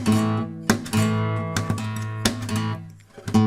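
Nylon-string guitar strummed flamenco rumba style with percussive taps, uneven and a little clumsy in rhythm, close and moderately loud.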